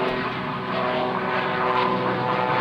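Jet-powered biplane Jolly Roger taking off at an airshow, a loud, steady engine roar with whining tones that holds continuously and close throughout.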